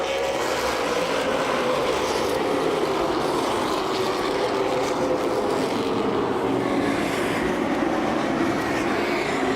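Late model race cars roaring around a short track in a feature race at Fox River Racing Club, a dense, steady engine roar with a continuous mechanical rumble and no pauses.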